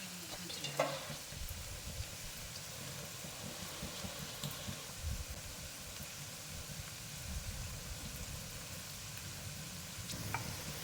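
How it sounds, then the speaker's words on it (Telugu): Onions sizzling as they fry in a pan for a chicken dish, a continuous close crackle with faint stirring scrapes throughout, no speech. "మన ఈ ఉల్లిపాయ వేగేటప్పుడు ఏంటంటే త్వరగా వేగాలంటే మనం చిన్నగా కొంచెం సాల్ట్ ఇందులో వేసుకుంటే త్వరగా ఉల్లిపాయ వేగుతుంది"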